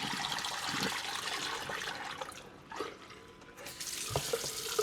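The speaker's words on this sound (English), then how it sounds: "Need to get some hot water in this again." Hot water gushes from a tap into a tub holding thawing rats, a continuous close rushing splash with slight shifts in flow.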